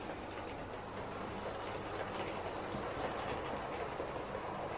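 A model railway Class 71 locomotive hauls a train along track cleaned with a non-polar WD-40 cleaner, producing a faint, continuous rolling hum with soft clicking from the wheels.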